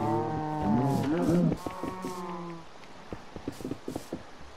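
A cow in the Minecraft video game gives a drawn-out, tonal moo up close for about a second and a half, followed by scattered clicks and game sounds.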